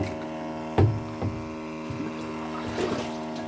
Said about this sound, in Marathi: आता सिंगल मोटर चालू आहे